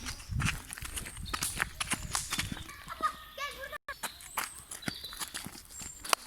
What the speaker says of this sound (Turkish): atları görüyoruz